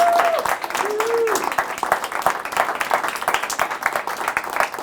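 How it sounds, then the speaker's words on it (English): A live studio audience applauds a talk show host, a steady wash of clapping hands that stays loud and dense throughout, with a brief voice sounding over the start. "Let's clap it up for yourselves."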